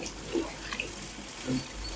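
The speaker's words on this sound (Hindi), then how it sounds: "ये 1 लीटर पानी है, ये मैं अभी इसमें ऐड कर रही" One litre of water poured into a pan for suji halwa makes a soft, low-level splashing trickle. The pour is faint but continuous, with no talking.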